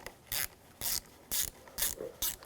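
A ratchet with a 10mm socket loosens the battery terminal on a 2011-2018 Volkswagen Jetta, sounding five quick, close bursts of clicking, evenly spaced with short pauses between strokes.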